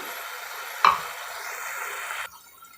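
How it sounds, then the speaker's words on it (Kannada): Roasted masala for coconut saaru frying in a pan, a steady soft sizzle with a brief clatter of stirring near the start, close and moderately loud, ending in a quieter hiss. "ಈಗ ಈ ಮಸಾಲೆ ಎಲ್ಲ ನಾವು ಆಲ್ರೆಡಿ ಹುರಿದಿರೋದ್ರಿಂದ 1-2 ನಿಮಿಷ ಹೀಗೆ ಹುರ್ಕೊಂಡ್ರೆ ಸಾಕು"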